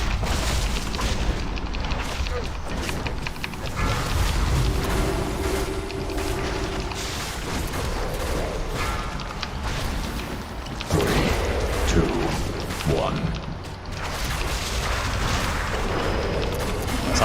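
Repeated booming explosions fill a video game boss fight, layered with rumbling blasts, bursts and sharp effects that run continuously over about seventeen seconds, with louder surges near the middle and end.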